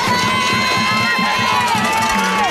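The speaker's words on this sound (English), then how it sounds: "Well, the crowd is just, it's crazy." A softball crowd cheers and shouts through a playoff game in Commerce, Texas, a loud, dense wash of voices that swells in bursts with children yelling among them.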